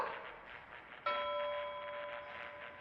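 A single bell strike in the Egyptian horror game The Masked Vengeance rings out clearly over a faint ambient hum, its bright metallic tone sustaining and slowly decaying.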